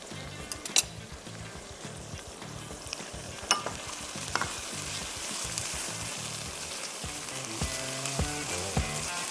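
Vegetables or Manchurian pieces browning in a hot frying pan for Indian-Chinese cooking, a steady dense sizzle with occasional sharper pops and crackles throughout, close and continuous with no talking.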